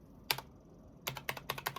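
Keys clack on a pink Akko Sakura Jelly mechanical keyboard: one quick pair of strokes, then a pause, then a faster run of crisp, close taps in a quiet room.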